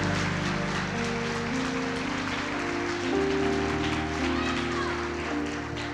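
A congregation claps together in a church service, a dense, sustained wash of applause mixed with organ-like tones and voices over about six seconds.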